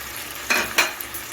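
Ground coriander, Kashmiri chilli and turmeric sauté with a splash of hot water in a pan for methi malai paneer. Two distinct spatula strokes scrape through the quiet sizzling paste up close.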